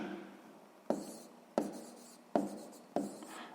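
A pen writes on paper during a sixth-grade maths exercise, close and clear, in four or five quick scratchy strokes, each starting with a sharp tap and trailing off.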